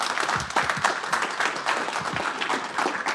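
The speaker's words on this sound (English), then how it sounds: "I normally don't get applause." Conference audience applauding a speaker coming up to give a tech talk; a moderate, fairly close patter of many hands clapping at an even rate, alone without speech, holding steady for a few seconds.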